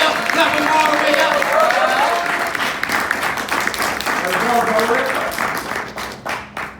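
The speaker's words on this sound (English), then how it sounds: "So let's clap them all the way up, clap them all the way up" Audience clapping at a slam poetry bout, loud sustained applause from a crowd mixed with cheering voices, thinning out into scattered individual claps at the end.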